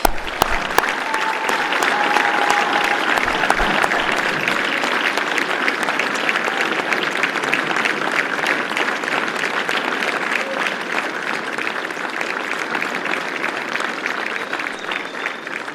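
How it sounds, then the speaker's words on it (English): A large audience at the closing plenary of the U.S.-Africa Business Summit gives a long, steady round of applause. The dense clapping is loud and sustained from start to finish, with no voice over it. "So please join me in giving Flory and her team a round of applause."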